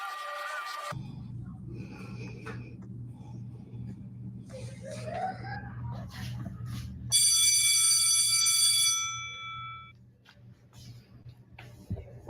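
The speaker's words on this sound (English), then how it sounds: "Was that an alarm?" A buzzing, tonal alarm sounds in short bursts, growing loud and sustained near the middle before cutting off, amid background noise and some talking.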